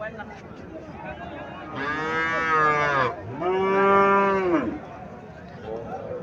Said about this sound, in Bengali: এখানে একটা গাবি দেখা যাচ্ছে লম্বা চূড়া